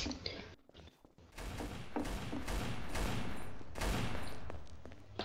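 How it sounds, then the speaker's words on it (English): Rapid bursts of gunfire crackle in a loud, sustained barrage in Trouble in Terrorist Town, with brief pauses between volleys. "I hear gunfire, man."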